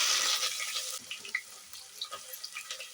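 Mustard seeds spluttering in hot oil in a pressure cooker while making bisi bele bath: a close, steady hissing sizzle with scattered sharp little pops and crackles, no voices.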